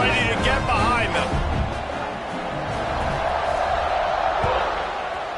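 A large football stadium crowd roars before kickoff, a dense, steady wash of cheering and whooping with a commentator's voice over it near the start.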